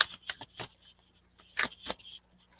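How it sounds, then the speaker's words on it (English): Soft papery riffling and flicking in a few short bursts, quiet and close, with pauses between. "it's just the way I'm shuffling the cards and then one just pops out"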